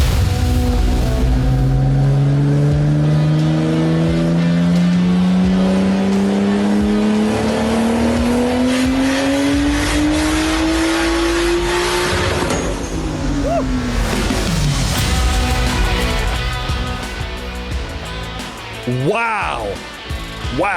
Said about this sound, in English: That was a really nutty-sounding dyno pull there